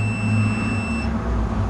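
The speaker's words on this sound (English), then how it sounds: "So what we should hear is beeping when this line passes in front of this pointer." A meter beeps in a steady high tone while checking breaker points on a Honda CL175 engine, then the beep stops partway through over a low background rumble.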